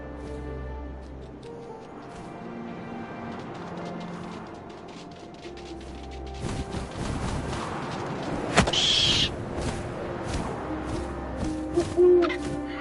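An owl hoots in the video game What Remains of Edith Finch, low repeated calls over an ambient background, with a few sharp knocks and rustles later and no talk.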